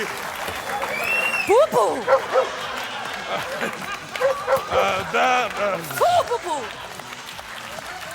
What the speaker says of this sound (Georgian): შეიძლება თქვენი აპლოდისმენტები.